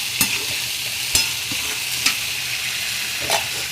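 Vegetables sizzle steadily in a hot pan while a spoon stirs them, with several sharp scrapes and clinks against the metal over a constant frying hiss.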